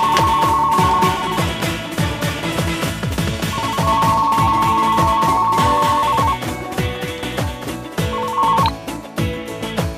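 A telephone rings in repeated bursts of bright trilling tones over loud, rhythmic music, with pauses between rings.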